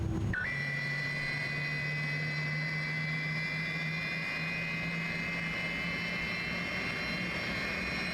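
Airbus A300-600R jet engines in a flight simulator game, a steady high-pitched whine and drone holding loud and constant throughout with no pauses.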